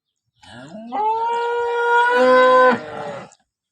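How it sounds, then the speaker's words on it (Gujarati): A cow on a dairy farm in Banaskantha gives a single long, loud, close moo lasting about three seconds, rising in pitch at the start and alone with no talk. "બીજી આ ગાય છે આ ગાય બીજા વેતરની છે"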